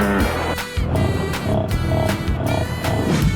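Hippopotamus call in a 3D animal slide video game: a loud, gruff roaring sound in repeated pulses over a few seconds, heard alone without talk.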